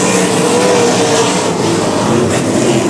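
Race cars roaring together at Heart O Texas Speedway as a field pulls away at the start, a loud, dense wall of engine noise with layered revving and no talking.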